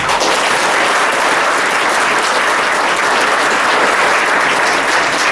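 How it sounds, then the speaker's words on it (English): A large audience claps loudly and steadily for teachers and mentors, a dense continuous wash of applause without pause, nearby and filling the space with no talking. "give a great clap for them"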